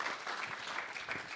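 Brief burst of applause from a church congregation during a service at GBI Gilgal Manado, a dense steady wash of clapping with no voices over it.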